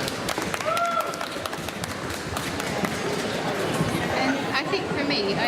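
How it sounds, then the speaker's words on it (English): Audience applause at a comic con cosplay Q&A, a dense wash of clapping mixed with crowd chatter, moderately loud and continuous throughout. "Round of applause."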